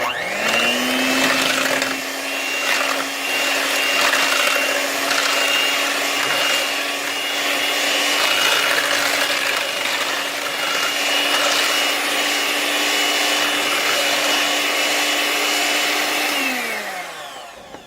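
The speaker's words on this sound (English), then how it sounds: "I like to whip it. So I am sorry for the blender" A blender whips a jellied homemade body butter mixture, a loud steady motor whine that starts, holds evenly for about fifteen seconds and winds down, with no talk.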